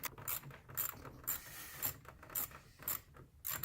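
Wrench loosening two 7mm nuts on a car dashboard panel, giving quiet, close ratcheting clicks in short irregular bursts with no talk.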